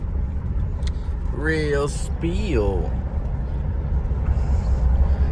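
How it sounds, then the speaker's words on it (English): A 2018 Chrysler 300S on a test drive, its steady low engine and road rumble running throughout while a person talks briefly over it near the middle. "Just gonna be showing y'all how the car drives and things of that nature."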